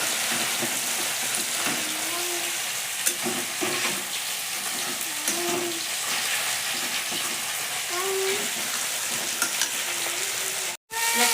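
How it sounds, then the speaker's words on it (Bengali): Steady crackling sizzle of bata fish frying in hot oil until reddish, continuous and close, with occasional clinks and scrapes, ending in a brief sharp knock. "মাছটা লাল লাল করে ভাজা করে নিচে তুলে দিচ্ছি"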